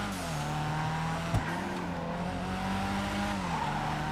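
A Karin Everon RS pickup truck in GTA 5 drives with a steady engine drone, the pitch shifting slightly through turns, tires hissing over the road and one sharp knock partway through.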